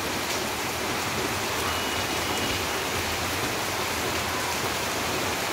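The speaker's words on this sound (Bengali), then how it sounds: "দেখেন বৃষ্টির জন্য বাহিরে বেরোতে পারছি না, প্রচুর বৃষ্টি" Heavy rain pours outside under a dark sky, a dense, loud, unbroken hiss of falling water with no voices.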